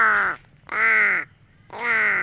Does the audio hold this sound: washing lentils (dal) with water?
no